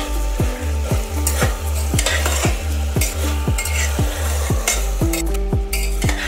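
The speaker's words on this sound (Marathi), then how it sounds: "मसाल्यामध्ये तांदूळ छान परतून घ्यायचा आहे।" Rice being stir-fried in spice masala, a spoon or spatula scraping the pan in a steady rhythm of about ten strokes over a soft sizzle, close and clear, with no talking.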